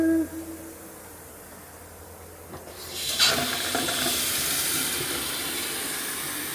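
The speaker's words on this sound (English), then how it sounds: "Come on, get some hot water going on in here." Hot water comes from a tap in an office sink. A quiet hissy stretch is followed by a sudden rush of water that holds as a steady, moderately loud stream.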